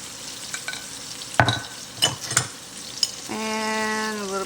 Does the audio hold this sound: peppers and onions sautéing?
yes